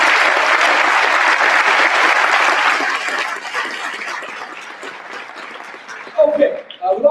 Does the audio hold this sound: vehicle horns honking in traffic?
no